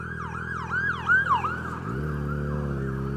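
An emergency siren wails rapidly behind a Suzuki DRZ400SM motorcycle on the road, rising and falling in quick sweeps, with the bike's engine note shifting underneath.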